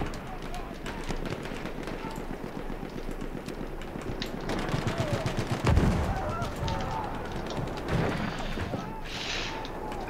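A Lewis gun fires in the Battlefield 1 video game, rapid automatic bursts rattling over a busy battlefield din for most of the stretch, with voices talking over the shooting.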